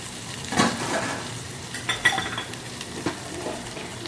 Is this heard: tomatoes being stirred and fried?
yes